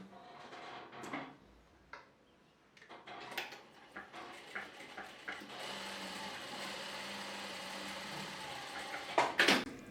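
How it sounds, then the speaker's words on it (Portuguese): Straight-stitch sewing machine sewing a pleat on women's shorts with an elastic waistband, running in short bursts and then a steadier stretch, with faint clicks and handling noises nearby. "na máquina reta, fazer a costura"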